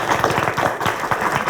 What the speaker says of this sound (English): if we could give all of our participants a round of applause